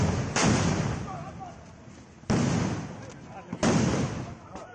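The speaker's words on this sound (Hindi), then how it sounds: "गोलियां चल रही हैं, हथगोले भी चले।" Gunfire and hand-grenade blasts during block chief election violence in Kasmanda, Sitapur, Uttar Pradesh: three heavy booming bursts about a second or more apart, each decaying slowly, with voices underneath.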